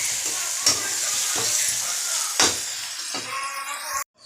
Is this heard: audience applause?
no